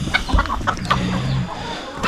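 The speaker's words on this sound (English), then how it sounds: "We got hens trying to kill each other." Hens on a homestead fight and cluck, giving sharp short squawks and scuffling, close and fairly loud, with a lower murmur beneath.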